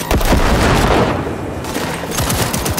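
Rapid gunfire from a Cyberpunk 2077 firefight, loud and dense bursts of overlapping shots with booming impacts running continuously through the clip, no voices over it.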